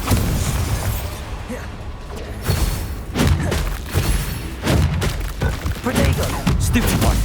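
Confringo and Bombarda spell blasts in Hogwarts Legacy go off as a rapid string of heavy booming thuds and crackling bursts, loud and close, with voices calling out between the impacts.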